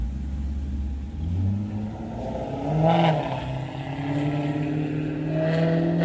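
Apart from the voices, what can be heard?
Maserati engine revving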